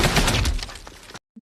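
Burst of gunfire from a war film battle scene, a dense crackling volley lasting about a second, then an abrupt cutoff with one faint low thump after a brief silence.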